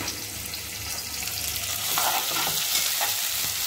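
Nalleru (veldt grape) greens fry in a pan. A dense, continuous sizzle comes with light stirring, close and steady for a few seconds, and no voices.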